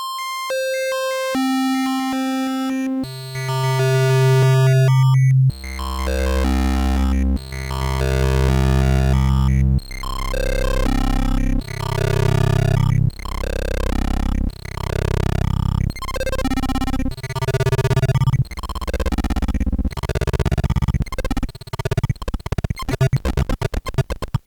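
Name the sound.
synthesizer oscillator scrolling through bit masks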